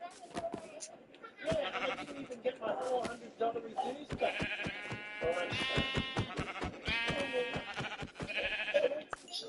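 Sheep in Minecraft Bedrock Edition bleat repeatedly in short wavering calls, close and clear, mixed with a person talking over them.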